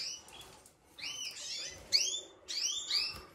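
Spanish breed canary sings in short bursts of bright, rapid chirps and trills, separated by brief pauses and repeated several times, close and clear with no talking.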